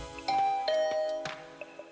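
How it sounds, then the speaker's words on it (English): A video game doorbell rings as a pair of clear, sustained electronic tones, followed by faint chiming blips against a quiet background. "I rang her doorbell and waited for a bit, but Darumi never answered."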